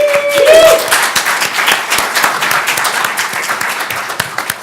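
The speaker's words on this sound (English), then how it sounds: "Let's give them a round of applause." Audience at a conference panel breaks into steady applause, loud at first and gradually thinning out; a brief tone and a voice open the clip before the clapping takes over.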